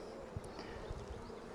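Honey bees hum around an opened hive frame of natural comb, a soft continuous buzz that stays close but faint, with a few brief knocks and rustles.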